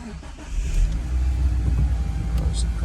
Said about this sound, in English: We have to have the car running for that, so let's do that